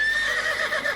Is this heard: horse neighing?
yes